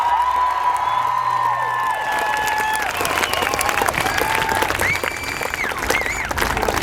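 Loud crowd at an Adelaide climate strike rally applauding and cheering continuously, with whoops and shouts rising over steady clapping throughout.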